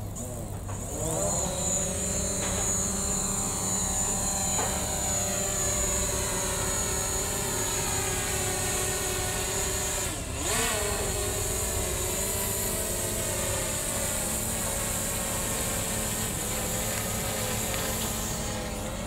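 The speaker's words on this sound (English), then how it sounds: "Here's the drone." A DJI Mavic Pro drone flies continuously, its steady, close, high-pitched propeller whine holding level with a brief dip partway through.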